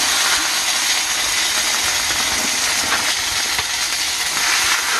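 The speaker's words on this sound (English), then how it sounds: "It's sizzling good because they're still just a little icy" Ribeye steaks cut from prime rib, still slightly icy, sizzle in a pan inside a heated winter camping tent, giving a loud, continuous, close-up hiss and crackle with no talking.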